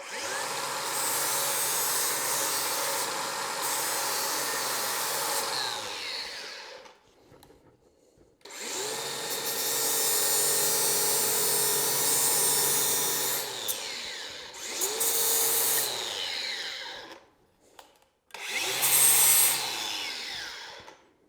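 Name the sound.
grinding mill scale off steel plate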